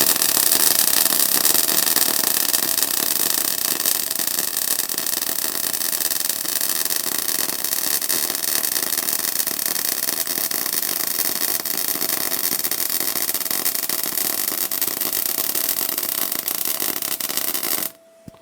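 R-Tech MIG181 MIG welder laying a bead on 4mm steel plate with 0.8 mm wire and MIG shielding gas on factory settings, a steady loud crackling hiss running unbroken for about eighteen seconds before cutting off.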